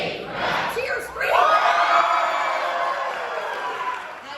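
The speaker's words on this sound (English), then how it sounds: "Now you got to keep the cheer scream going for at least a good 5 seconds" Audience at a talent show breaks into a loud cheer scream, a sustained wash of shrieks, yells and whoops from many voices that surges near the start and holds for several seconds before easing.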